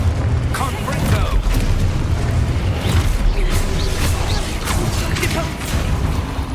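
A Confringo spell blast goes off in Hogwarts Legacy, a series of booming bursts and crackling impacts over continuous game noise, with voices shouting in the background.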